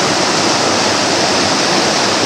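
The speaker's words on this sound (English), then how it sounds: "Good flow of water today." Water rushes steadily through a narrow canyon in strong flow, a loud, close, unbroken roar with no voices over it.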